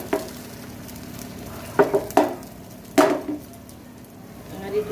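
Neer dosa batter poured onto a greased griddle over low to medium gas, a soft steady sizzle broken by a few sharp clinks and scrapes of a utensil against the pan.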